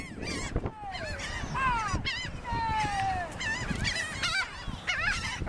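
Seagulls calling loudly and repeatedly nearby at an outdoor spot where tacos are being eaten, with rising and falling cries overlapping one another and a few people talking underneath.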